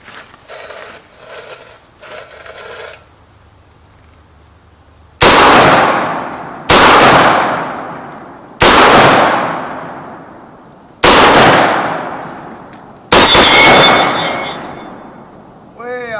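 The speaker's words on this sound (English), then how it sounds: "I'm going to put my hearing protection on because this thing is loud, and I'm just going to shoot for a minute" Five loud, close gunshots from a 7.62x39 AR15 rifle, fired one at a time a second or two apart. Each sharp crack is followed by a long decaying echo, with quieter rustling before the first shot.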